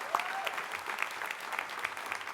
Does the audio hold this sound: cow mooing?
no